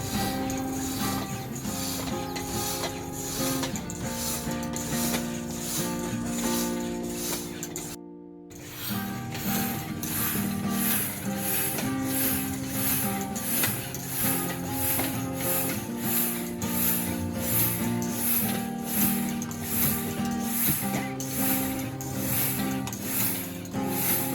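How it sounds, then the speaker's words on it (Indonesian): Hand pump inflating two balloons to the same size for a solid-pressure experiment, a fast, steady run of rhythmic pumping strokes, close and loud, briefly pausing midway before resuming. "pompa kedua balon dengan ukuran yang sama"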